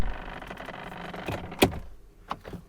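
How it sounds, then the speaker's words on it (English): The rear door of a 2023 Audi A8 L 55 TFSI luxury sedan pulls shut with its soft-close mechanism: a low mechanical whir, a sharp latch click, then a smaller second click. "That was the soft closer, but let me slam it again."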